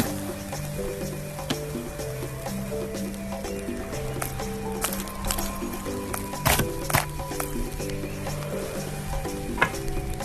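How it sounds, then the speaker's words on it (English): Tortilla cooking on a comal for a Yucatán Mayan recipe, giving a steady soft sizzle and crackle throughout with a few brief sharper pops, over faint background clatter. "Cook the tortillas on the comal."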